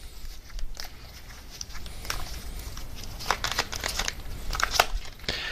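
A tarot card being drawn from the deck and handled: close, soft crinkling and shuffling of cards with sharper flicks and snaps, continuous and fairly quiet throughout.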